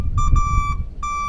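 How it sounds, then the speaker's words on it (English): A truck's backup alarm sounds during a pre-trip inspection, giving steady tonal beeps with a break in the middle, heard close over low engine rumble. "This one we're equipped with not only backup lights, but the backup alarm as well."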